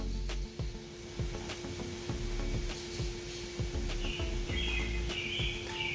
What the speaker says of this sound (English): you'll even hear the birds chirping.